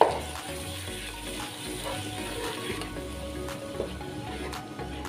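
Tomato paste frying with spices in a pan for a masoor dal curry, a steady close sizzle with faint stirring scrapes and no talk.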